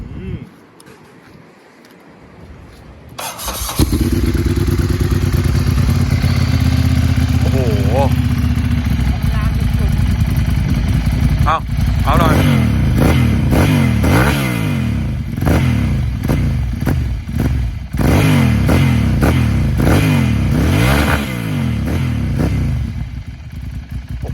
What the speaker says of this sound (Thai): ขอฟังเสียงเครื่องครับ